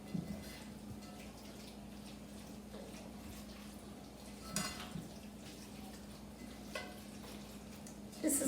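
Sloppy joe mixture is stirred in a pan, giving a soft, steady scraping and gentle sizzle with a few louder clinks of the utensil against the pan, close and fairly quiet.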